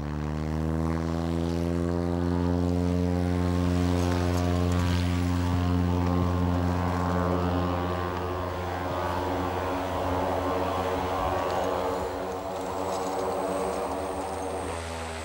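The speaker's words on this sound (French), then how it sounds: "Il reprend l'avion pour Talkeetna." A propeller airplane flies toward Talkeetna, Alaska, making a loud, steady engine drone with a strong buzzing tone that holds for the whole stretch, rising and falling slightly, with no voices.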